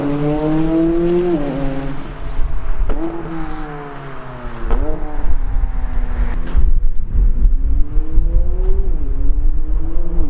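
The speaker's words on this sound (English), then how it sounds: "this car does sound really quite cool" A McLaren sports car engine revving hard through repeated gear changes, rising pitch again and again, loud and close with a deep rumbling exhaust.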